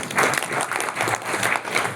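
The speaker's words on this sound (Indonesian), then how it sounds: "Tepuk tangan, tepuk tangan." Brief applause from an audience at an Islamic hajj pilgrimage lecture, a short burst of dense clapping lasting about two seconds.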